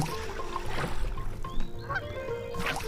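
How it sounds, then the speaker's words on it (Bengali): Repeated honking from a duck in the Bangladeshi video game Meena 2, a few loud close calls spaced over a continuous game background without speech. "এই হাঁসটিও দেখা যাচ্ছে এসে গেছে"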